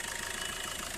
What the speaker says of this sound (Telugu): ఇంజన్ సౌండ్ మాత్రం ఇట్లా ఉందండి.